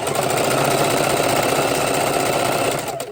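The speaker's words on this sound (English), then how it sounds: "on the Singer machine, it's doing a double line" A Singer sewing machine runs steadily and loudly up close, its fast, even mechanical whir stitching a reinforced double line through fabric before slowing at the very end.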